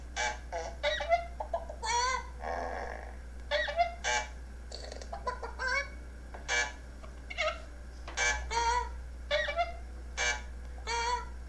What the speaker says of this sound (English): I think the horn is a space. I think the buzzer and the chicken are the dots and dashes.